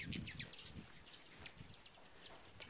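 Hummingbirds dart around a sugar-water feeder on Star Mountain, their sharp, high chirps and squeaks coming repeatedly over a faint background, fairly quiet and without any voices.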